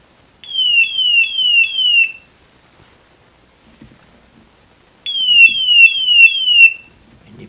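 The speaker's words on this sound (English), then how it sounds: "High level alarms. Very loud horn." A loud electronic alarm horn on a GFG G460 multi gas detector sounds its high-level alarm in two bursts, each a rapid series of four rising-falling whoops, separated by a few seconds of near silence.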